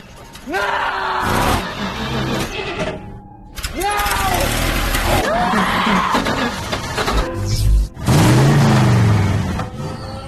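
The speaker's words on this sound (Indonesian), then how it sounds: "sekarang mereka harus menyalakan mesin truk tersebut" A truck engine cranks and sputters in several attempts, with clanks, groans and a brief silence, before a louder roar catches near the end.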